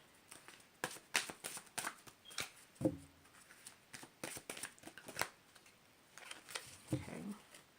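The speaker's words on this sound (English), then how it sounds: "So I'm just shuffling." Oracle cards being shuffled by hand close up, a quiet irregular run of soft slaps and riffling flutters with brief pauses, heard alone without talk.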